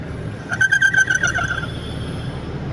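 A Honda Civic's air conditioner, switched on after the car sat unused for a long time, gives off a squealing, warbling whine like a crying turkey. The wavering cry runs through about a second over a low rumble, with no talking.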